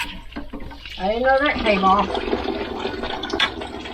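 Tap water running and splashing while juicer parts are washed with soap, a steady hiss under a man's speech with occasional clatters of the parts.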